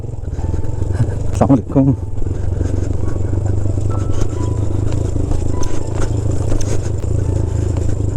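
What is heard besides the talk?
motorcycle riding on off-road track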